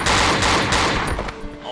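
Loud, close gunfire in the horror game Cry of Fear during co-op play: a quick string of shots with rattling automatic bursts that trails off into echo.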